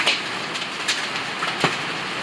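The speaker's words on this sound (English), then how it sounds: "That's hail." Hail strikes outside during a severe storm with strong winds over Oklahoma City, sharp scattered impacts cracking irregularly over a constant rushing wind background.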